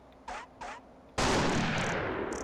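Sniper rifle fire in the video game The Thing: two short faint taps, then a sudden loud broadband blast whose noisy tail fills the rest of the moment, with small crackles trailing after.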